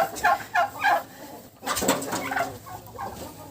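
Turkey hens strutting and puffing up like a male, giving a few close, bursty clucking calls in quick succession, separated by a brief pause.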